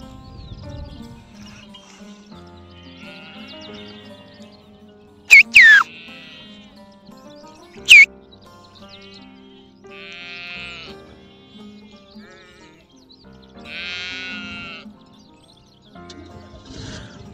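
Several sheep bleats ring out across a quiet outdoor scene, some loud and close, others softer and farther away, with long pauses between calls.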